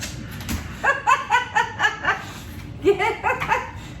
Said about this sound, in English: now that I got my dog somewhat calmed down